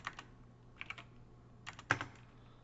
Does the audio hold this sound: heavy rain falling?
no